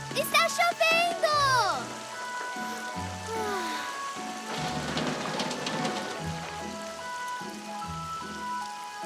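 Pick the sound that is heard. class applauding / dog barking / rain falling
rain falling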